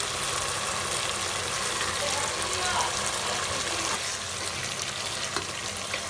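Meat hisses and sizzles steadily in hot oil over a cooked-down paste of ginger, garlic and onion, a dense, continuous frying noise that stays loud and close throughout.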